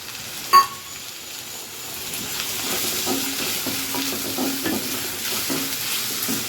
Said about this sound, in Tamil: இப்போ இதெல்லாம் நல்லா வதங்கட்டும்